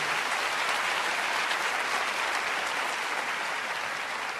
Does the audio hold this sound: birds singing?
no